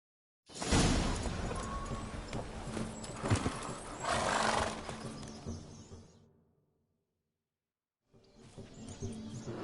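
Roach, a horse in the video game The Witcher 3, walks with steady hoof clops and a possible whinny for about six seconds, then a brief silence before the hooves resume more faintly.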